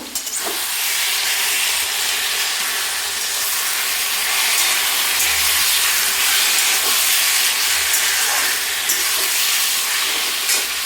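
Fried rohu fish head with vegetables and spices is stirred in a hot pan, giving a steady loud hiss and sizzle with faint scrapes of the spoon against the metal.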